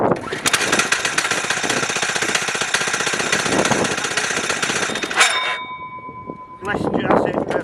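A Yamaha YZR500 two-stroke race bike engine run with a little throttle and choke, giving a loud, rattling buzz close by. It dies away briefly, then picks up again while people talk over it.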